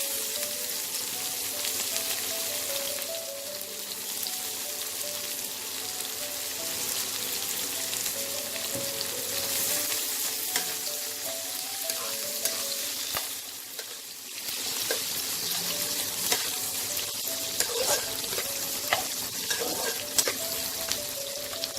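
Chopped onion fries in hot oil in a pan for a fish-head muri ghonto, giving a dense, continuous close-up sizzle with occasional stirring scrapes and clinks.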